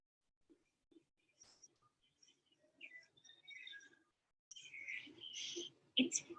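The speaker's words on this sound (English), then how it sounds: "right now I'm in Maui and I hear thousands of birds." Many birds chirping and calling in Maui, a scattered mix of near and distant tweets, faint at first and growing busier, with soft voices murmuring underneath.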